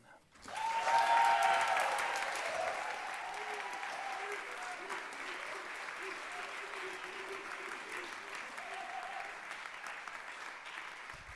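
Audience applause at a music school convocation for an award winner, swelling quickly then settling into steady clapping, with a few voices and cheers mixed in under the hands.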